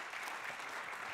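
A broad, steady wash of audience clapping fills the clip at moderate distance, sustained without pause and with no voices on top.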